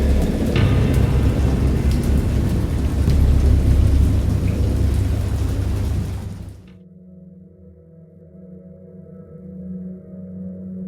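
Heavy rain pours in a thunderstorm in the horror game Dagon, with deep rolling thunder rumbling loudly for several seconds before the downpour cuts off abruptly to a quiet, low ambient drone.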